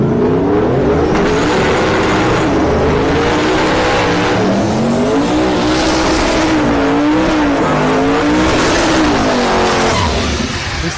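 A pair of Mustang drag cars launch side by side at a no-prep drag race at Orlando Speed World, a loud sustained engine roar with rising and falling revs and tyre noise, close and continuous, without talk.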